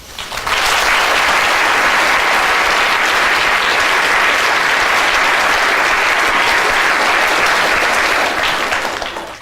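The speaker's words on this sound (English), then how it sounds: "Applause for Neo" A lecture audience breaks into loud, sustained applause that holds steady for several seconds before tapering off, with no talking over it.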